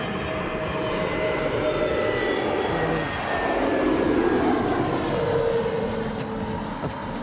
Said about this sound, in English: I just feel like waving to all the planes.